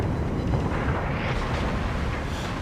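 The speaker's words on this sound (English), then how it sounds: "I don't think he expected those torpedoes, and we might get one here." A torpedo strikes a warship in the naval battle game World of Warships, producing a deep, sustained explosive rumble that stays loud and broadband throughout.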